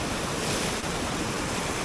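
Floodwater rushing down a swollen mountain creek after a hurricane, a dense, continuous roar of broadband water noise, close and steady with no voices.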